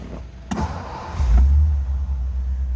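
A 1956 Ford Thunderbird engine cranks briefly and catches, settling into a low, steady idle rumble close by.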